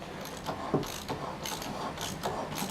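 A ratchet on a 6mm drive socket clicks in short, repeated bursts while manually lowering a light tower, close and fairly quiet, with brief pauses between strokes.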